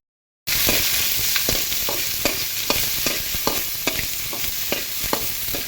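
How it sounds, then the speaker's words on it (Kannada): Mustard seeds, cumin, curry leaves and chopped onion sizzle steadily in hot oil for drumstick sambar, with regular scraping stirs of a spoon against the pan punctuating the continuous frying hiss; no talking. "ಇದಕ್ಕೆ ಸಾಸಿವೆ ಮತ್ತು ಜೀರಿಗೆ, ಹಾಗೆಯೇ ಒಂದು 3-4 ಕರಿಬೇವು, ಕಟ್ ಮಾಡಿರ್ತೀರೋ ಈರುಳ್ಳಿ ಹಾಕಿ ಫ್ರೈ ಮಾಡಬೇಕು."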